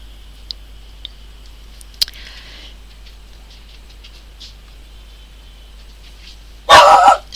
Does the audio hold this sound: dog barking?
yes